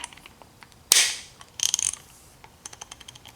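Snap-on SL710 1/2-inch ratchet, freshly rebuilt, turned by hand with a socket fitted: a sharp burst of fine clicks, then a rapid run of pawl ticks and a few scattered single clicks, close and crisp with no talk.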